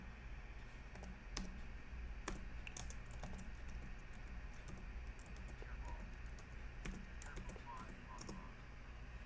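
Computer keyboard typing during a horror game stream, a steady run of quick clacking keystrokes close up, with scattered louder hits throughout.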